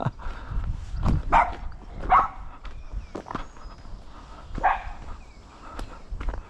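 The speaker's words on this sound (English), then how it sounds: "when the dog barks" A dog barks sharply a few times at irregular intervals, close by, with footsteps and rustling between the barks.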